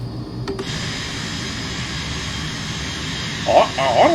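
Small jet aircraft engine in the Microsoft Flight Simulator 2024 game, a steady, even roar with a broad whine held throughout. Faint tonal cockpit sounds chirp near the end.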